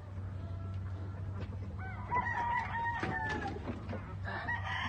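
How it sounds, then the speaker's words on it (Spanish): An Asil Baby Bulls rooster lets out a single drawn-out crow at moderate distance over a steady low hum of farm background noise. "Este es el gallo Baby Bulls que me llegó de Washington."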